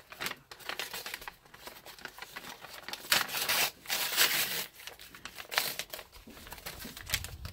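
A mailed package is opened slowly and carefully, close up, with irregular bursts of crinkling paper or plastic, rubbing and soft tearing, pausing between handfuls, no voices.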